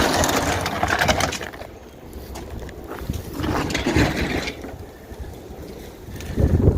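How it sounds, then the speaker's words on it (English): Gusty wind buffets the microphone in uneven, rumbling surges, rising and falling over broadband roar with no voices. "Yes, it did get a bit windy today"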